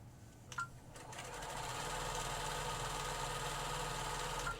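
A sewing machine runs a quarter-inch seam down the handle of a fabric Halloween bucket, starting with a couple of brief clicks and then settling into a steady, close, continuous mechanical whir with no talking.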